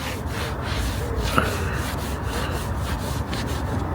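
Hand rubbing and scrubbing on car paintwork to feather an edge, a steady dry abrasive scrape running throughout, close and fairly even, with one brief sharper scuff partway through.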